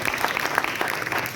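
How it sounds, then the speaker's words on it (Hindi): Audience applause at an Urdu Academy literary festival in Lucknow: a short, light burst of scattered hand claps, moderately close, with a crackly texture and no speech over it. "तालियां बजा दीजिए"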